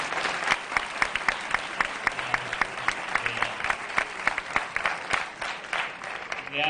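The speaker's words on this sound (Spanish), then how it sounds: "quiero que le deis un muy gran aplauso a Cristina por haberse prestado a colaborar" Audience applause fills a hall at a flamenco Mass for human rights, dense steady clapping with sharp individual claps standing out, sustained throughout without talk.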